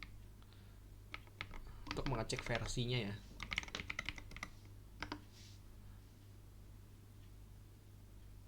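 Rapid clicks of typing on a computer keyboard in short bursts, close by, with a person speaking briefly over part of it.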